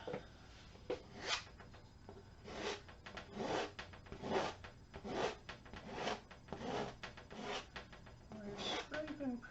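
Paint being scraped with a plastic gift card, a series of repeated rasping strokes with short pauses between them, close and moderately loud, with no voices.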